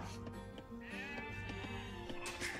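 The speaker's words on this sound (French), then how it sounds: "encore des moutons, pas mal de moutons" Several sheep bleat over a dense, busy Age of Empires II: Definitive Edition game soundscape with music and effects, the calls overlapping at moderate volume.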